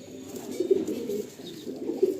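Female pigeons coo softly in a loft, with low, rounded calls repeating at an unhurried pace close by and no voices over them.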